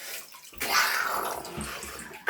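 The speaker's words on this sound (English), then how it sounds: "After I squeeze the water out of it," Water being wrung out of a soaked plush mermaid toy, a wet squelching and splattering burst that runs loud for about two seconds after a quiet start, ending in a short sharp knock.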